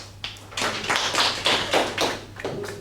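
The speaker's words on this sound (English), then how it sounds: "A big round of applause for that" A small table topics audience at a speaking club meeting claps after a speaker's opening, a short round of mixed, overlapping hand claps that swells and fades over a few seconds, fairly close and without talk.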